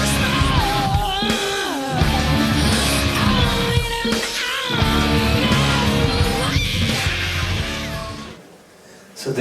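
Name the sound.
vocal growl, rough singing effect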